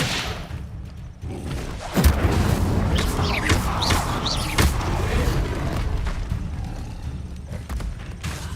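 An Incendio fire spell is cast in Hogwarts Legacy, a close whooshing burst with a thudding impact and crackle, followed by further swishes and booms over a steady game ambience.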